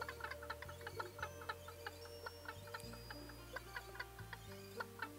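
Chickens in the video game Secrets of Grindea cluck in short, repeated bursts over looping game music with a steady bass line, the clucks scattered and fairly prominent in the mix.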